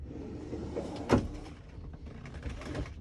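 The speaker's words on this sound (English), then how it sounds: "You have really lovely deep drawers here at the end of the bed." A soft-close drawer at the end of a bed in a Carthago C Tourer 150 QB motorhome slides shut, giving one short muffled thump that settles into quiet rustling.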